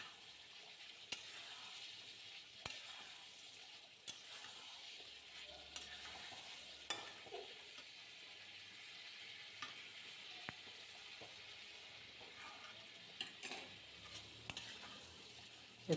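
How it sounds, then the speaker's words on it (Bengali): Vegetarian Kolkata-style aloo dum masala with potatoes sizzles steadily in a pan, a continuous frying hiss broken by occasional sharp clicks and scrapes of stirring, close and moderately quiet with no talking. "এটা আমি খুব ভালো করে কষিয়ে নেবো।"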